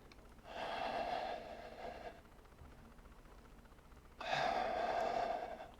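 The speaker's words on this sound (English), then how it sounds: "Breathe in deep." Two long, deep inhalations during a yoga session, each drawn-in breath close and steady, separated by a quieter pause, with no talking over them.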